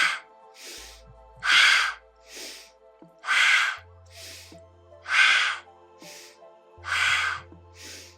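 Forceful yoga breaths taken during a slow vinyasa and yin flow, five strong broadband exhalations recurring roughly every one and a half seconds, interleaved with softer inhales, close and clear over a faint low musical drone.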